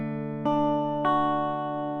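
Guitar plucked on the open fourth string, a D, in a beginner chord lesson: two clean plucks about half a second apart, each ringing on and overlapping, close and fairly quiet with no talk.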